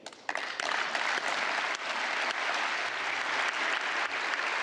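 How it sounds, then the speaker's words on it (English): A large audience applauds at a European gathering, steady and dense clapping that starts abruptly and sustains evenly at full volume throughout, with no voices above it. "Europe applauds,"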